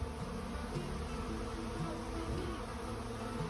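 Honey bees buzzing around beehives, a dense steady drone of many insects close by, continuous and even for a few seconds with no voices.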